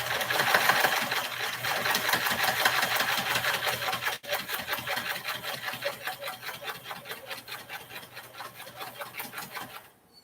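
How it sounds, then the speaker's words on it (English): A sewing machine stitches a fabric strip onto the edge of a heart-shaped pillow, a fast steady mechanical whir with rapid needle ticks, close and continuous before stopping at the end. "what I'm doing is just sewing the edges of the strip"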